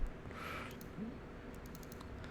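Keystrokes on a computer keyboard while working in Rhino 3D modeling software, a soft, quiet run of clicks over faint room noise with a few brighter taps near the end.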